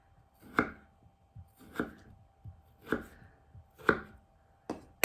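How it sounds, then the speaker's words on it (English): Potatoes with skins on are cut into quarters with a knife on a board, five crisp chops at a steady, roughly one-second rhythm, close and clear with no talking. "So I'm cutting them actually into quarters, into 4 pieces in order to make them really thin."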